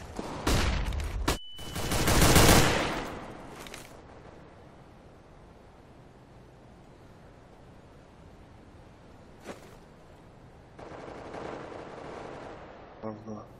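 In a Counter-Strike match, a loud burst of gunfire and a flashbang blast come near the start. A quieter stretch follows, with a sharp crack later on and a further rush of noise toward the end.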